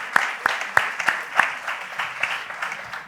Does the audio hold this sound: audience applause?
yes